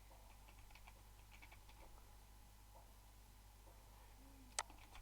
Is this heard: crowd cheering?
no